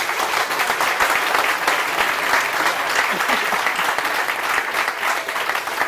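An audience at an evening tech week gathering applauds in a dense, loud, continuous wash of clapping for about six seconds, with a single short spoken word heard over it.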